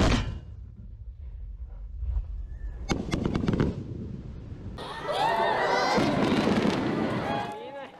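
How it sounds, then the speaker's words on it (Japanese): Fireworks pop and crackle in sharp bursts at a Japanese summer fireworks festival, then a crowd cheers and calls out loudly as the display continues. "花火大会がスタート。"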